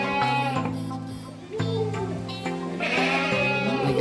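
Young Saanen goat kids in a pen on a goat farm bleat repeatedly and loudly close by, several wavering cries overlapping in quick succession, with no speech.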